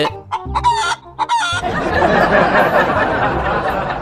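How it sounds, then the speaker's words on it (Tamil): Chickens cluck and a rooster calls in a garden, with sharp close bursts early on, then a busy, noisy farmyard background of birds and ambient sound. "கோழி அவர் கேட்க கொத்திட்டு போயிடுச்சு."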